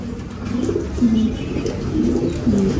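Soft, throaty pigeon coos repeat in low bursts inside a warehouse, close by, over a faint background hiss.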